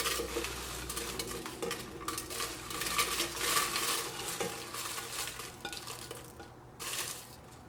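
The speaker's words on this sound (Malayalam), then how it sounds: "അതിന് വേണ്ടിയിട്ട് പാത്രത്തിലേക്ക് മുളക് ചേർക്കാം." Dried red chillies with stems removed tossed into a pot for homemade chilli paste: close rattling and scraping of the chillies against metal, with stirring clatter and a faint sizzle, in short uneven bursts.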